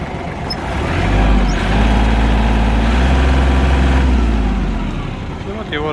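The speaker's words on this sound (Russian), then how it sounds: "Давайте запустим трактор." A Kubota GL220 compact tractor with a front loader starts and settles into a steady, smooth idle, its deep rumble holding close and loud, with a voice talking over it near the end.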